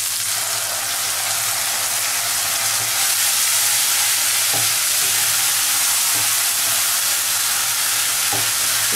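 Mustard paste hitting hot oil in a pan for Bengali tilapia machher jhal, giving a steady, loud sizzle and hiss throughout, with a few soft clinks of stirring.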